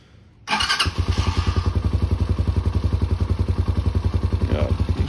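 A 2020 Tao Tao TBR7 dual sport enduro motorcycle starts up and settles into a steady, close, loud single-cylinder idle with an even rapid thumping pulse, no talk.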